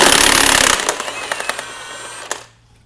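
A power socket tool on a Honda crank pulley, a harsh close burst of rapid hammering rattle that stops, followed by a few sharp clanks and taps.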